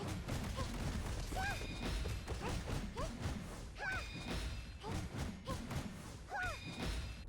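Basic attacks in the Crystal of Atlan video game, with repeated whooshing swings and thuds set against a dense background of game music, plus short chirping accent effects that recur about every two to three seconds.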